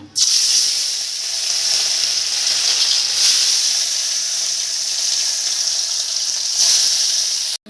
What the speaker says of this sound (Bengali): এখন একটা একটা করে মাছ ভেজে নেব।